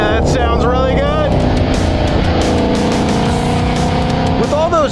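Upgraded V8 in a Chevrolet Camaro muscle car running with a loud, steady roar and shifting pitch sweeps as it revs, a voice talking over it throughout.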